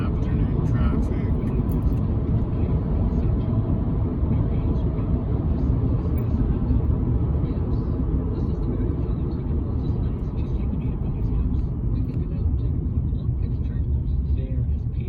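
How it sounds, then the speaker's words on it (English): Steady road noise from car traffic on a British Columbia highway on a Saturday afternoon, a continuous low rumble at constant loudness throughout, with talking over it. "Saturday afternoon traffic"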